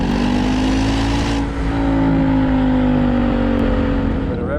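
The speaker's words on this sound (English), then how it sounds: "Bit of rev limiter there, Stu." Engine of a 2017 Ford Mustang GT with its V8 held steadily at the soft rev limiter under hard throttle out of a tight corner, a loud, sustained drone with steady harmonics filling the whole span.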